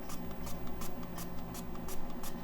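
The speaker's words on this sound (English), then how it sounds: "You spray a lot of it in there." Quick repeated spray bursts of Goo Gone cleaner hiss into an HO slot car chassis in a steady rhythm, about seven short pumps, fairly faint over a low background hum.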